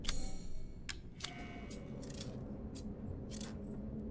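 Scissors snip through bandages in Resident Evil Village, a series of sharp, crisp metallic cuts, several quick clips early then a few spaced snips later, close and fairly faint over a low background hum.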